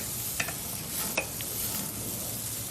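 Hamburger patties sizzle on a greased grill in a soft, continuous hiss, broken by a couple of quick, sharp ticks and pops.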